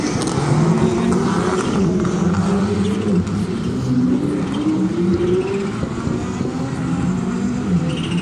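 Rally cars at the Rally de Wallonie in 2021 race over slippery terrain, engines roaring steadily and loudly with rising and falling revs throughout.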